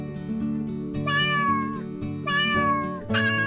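A cartoon cat gives several drawn-out, tonal meows in a row, loud and clear over a steady musical background, with no talking.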